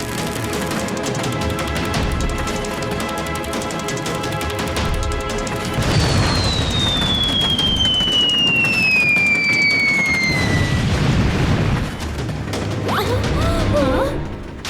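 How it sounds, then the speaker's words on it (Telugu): Cartoon cannon fire during a train chase: a long descending whistle streaks overhead amid repeated crashing blasts and clatter, loud and busy, with no speech. "అరే వాళ్ళు ఫిరంగి దాడి చేస్తున్నారు"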